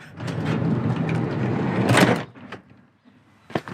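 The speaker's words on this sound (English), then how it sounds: "Why is the door not opening?" A van's side door slides open with a long, loud rumbling roll that ends in a heavy thunk, followed by a few faint clicks and a short knock, with no one speaking.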